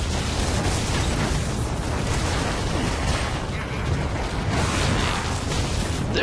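Booming cannon fire in a Skylanders Trap Team sewer level, a dense, continuous rumble of blasts and bursts that fills the whole stretch at steady loudness, with faint game voice underneath.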